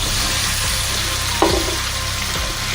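Chopped onion sizzling in a frying pan alongside tomato, a steady close hiss of frying with a brief clatter midway as ingredients are stirred.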